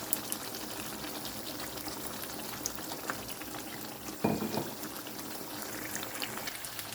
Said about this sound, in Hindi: थोड़ा सा मैं इसमें ऑयल ऐड कर दूँगी।